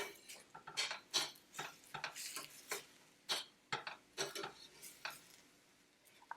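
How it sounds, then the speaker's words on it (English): Onion and garlic cooking in a pan are stirred with a utensil, producing close, soft scraping and clinking against the pan in quick irregular strokes over a faint sizzle. "go ahead and give it a stir."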